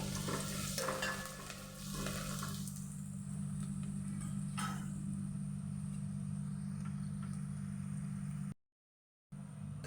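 Onion hits hot oil for tempering a restaurant-style dal tadka. It starts with a bright, loud sizzle that settles into a softer, steady frying hiss over a constant low hum, with a brief dropout near the end.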